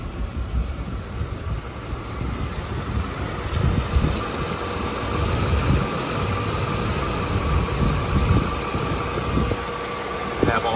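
A 1984 Mercedes 380 SL with 7,000 miles idles steadily after a cold start, a constant low rumble with broadband hiss and a faint high whine heard close; a voice briefly speaks once.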